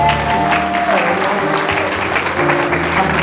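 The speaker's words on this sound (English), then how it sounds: "Please give Mayor Davis a round of applause." Applause from a luncheon audience for Mayor Davis at a Martin Luther King Jr. Day event, a steady wash of clapping with voices and a tonal sound mixed in beneath it.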